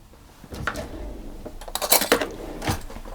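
A spoon scrapes and clinks against a bowl as flour is mixed into an egg mixture for ricotta scones, giving irregular close knocks and scrapes that bunch together toward the middle; no talking.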